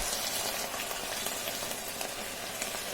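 Leftover rice and sweet corn stir-frying in a pan for a vegan dish, giving a steady, close, broadband sizzle with faint scraping from stirring, continuous throughout and without voices.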